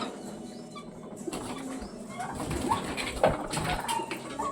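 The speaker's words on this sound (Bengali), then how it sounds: "এখানেও অনেক পায়রা চলে এসছে" Pigeons flap their wings in short bursts amid rustling outdoor noise, with a few soft thumps and flutters close by.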